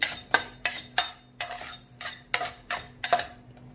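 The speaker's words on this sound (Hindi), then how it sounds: "तो गाइस हम ये काली मिर्च भूनेंगे अभी लास्ट में, क्योंकि हमें इसमें तेल नहीं चाहिए काली मिर्च में इसी कढ़ाई में।" Black peppercorns dry-roasted in a kadhai without oil while making sambhar masala: about eight sharp, rhythmic scraping and clinking strokes of stirring, close and clear, with no voices.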